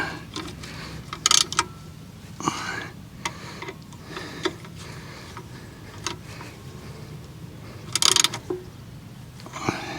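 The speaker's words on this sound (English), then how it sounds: "Just get my socket, just nip those up a bit." Socket wrench nipping up bolts on mini excavator tracks, a series of sharp ratcheting clicks in short bursts, close and fairly loud, with metallic taps between.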